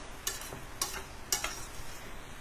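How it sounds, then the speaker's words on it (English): Corned beef hash being stirred in a hot pan, three distinct scraping strokes of a utensil spaced about half a second apart over a faint, quiet sizzle. "so let's give this a little stir."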